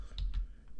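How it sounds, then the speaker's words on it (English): A few quick keystrokes are tapped on a computer keyboard, close and soft, in a brief burst of clicks. "From Chrome, I will type"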